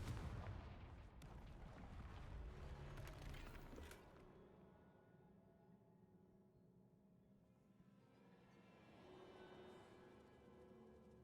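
A blasting fire spell cast in the Hogwarts Legacy video game booms into a heavy explosive rumble, with a rolling decay that fades into a quieter low hum.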